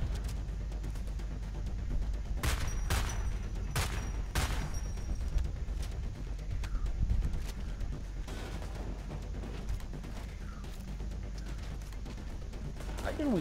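Gunfire from the co-op shooter Homefront The Revolution: a few sharp, loud shots stand out over a constant rumbling battle bed, with more scattered reports later in the stretch and voices talking throughout.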